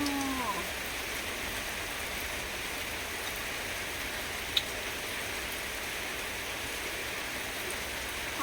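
Steady rain falling outdoors, a constant even hiss with no breaks and no talking.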